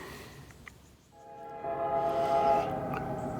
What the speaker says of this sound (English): I hear the train coming now